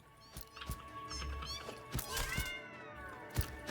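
Glitchy in-game cat meowing in Satisfactory, a series of repeated, warbling meows over a steady game ambience, close and fairly loud with short gaps between calls.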